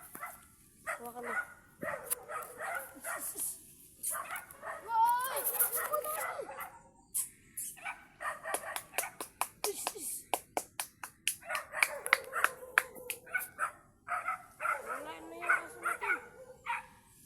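A dog yips and barks in quick repeated bursts amid lively chatter from several people, with rustling and handling noise throughout.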